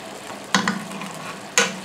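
A spoonful of butter sizzles in a hot pan for a risotto, a steady low crackle with two sharp clacks of the spoon or butter hitting the pan.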